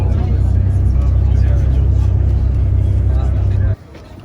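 Engine rumble and road noise fill the inside of a packed local bus on Santorini, steady and loud from start to finish, then cutting off abruptly near the end as the bus stops or the door closes.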